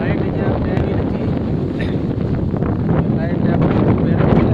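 Strong wind buffets the microphone outdoors in a village, a heavy low rumbling roar that stays constant throughout, with a muffled voice faintly underneath.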